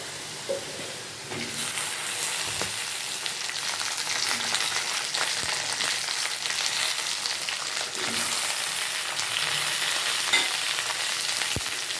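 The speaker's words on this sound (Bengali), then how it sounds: "ভেন্ডিগুলো প্রায় মিনিট 2-এর মতো আলুগুলোর সাথে ডেকে ডেকে ভাজবো।" Steady, loud sizzling of okra and potatoes frying in a pan, with occasional scrapes and clicks of stirring, no talking.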